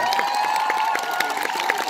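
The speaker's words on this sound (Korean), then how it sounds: "박수, 이렇게 박수." A crowd at a concert claps and cheers steadily, with broad dense applause and shouts from many people throughout.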